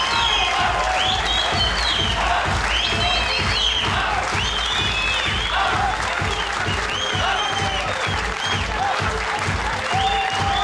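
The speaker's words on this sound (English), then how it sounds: "What a reaction. The crowd are going nuts here." Squash spectators at a women's semifinal of the 2015 Qatar Classic burst into sustained loud applause with cheering and whistles, a dense continuous roar of clapping filling the hall throughout.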